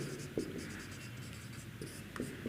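A pen or chalk writes out a Class 10 maths exercise solution with quick scratchy strokes and a few sharp taps, fairly quiet and close, with no speech over it.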